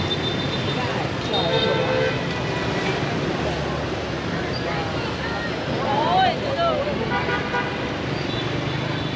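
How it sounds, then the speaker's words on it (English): Dense scooter traffic in a Hanoi street roars steadily close by, with several short horn toots scattered through the engine noise and wind buffeting. "Lots of scooters here, not sure what's going on."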